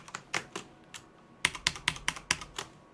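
Computer keyboard keys pressed for Excel shortcuts such as Ctrl+Shift+Plus to insert rows or columns: a few separate clicks, then a quicker run of about eight crisp, close taps.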